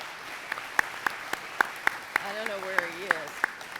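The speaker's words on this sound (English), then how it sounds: "Let's give him a round of applause." Scattered, fairly light clapping from a town hall audience, with distinct individual claps spaced irregularly across the moment and a voice speaking briefly partway through.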